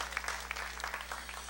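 Applause from a church congregation during a Spanish-language sermon, a fairly faint, steady patter of many hands clapping throughout the short stretch with no talk over it.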